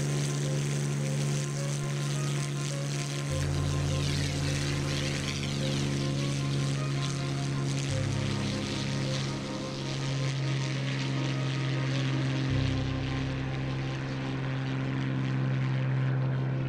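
A P-51D Mustang's propeller engine drones steadily and loudly in flight in a flight simulator, a constant rich roar with shifting low harmonics as power settings change, with no talk over it.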